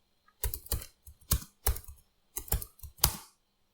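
A song name is typed on a computer keyboard in about eight quick clusters of crisp, close keystrokes separated by short pauses, with no talking.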